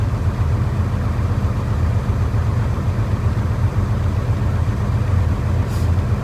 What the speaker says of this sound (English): His tires are spinning.